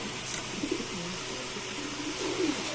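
Royal Teddy pigeons cooing in a loft, several soft low throaty coos spread across the clip over a steady background hiss, close and fairly quiet with no talk.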